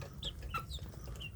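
Kampung chicken chicks in a rearing pen make soft, high peeping clucks, a few short calls scattered over a low background hum, fairly faint and close by.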